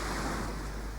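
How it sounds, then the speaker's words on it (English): Ocean surf washing in as a continuous broadband roar, full and steady with no voices. "that's the sound of surf, which is a very calming sound"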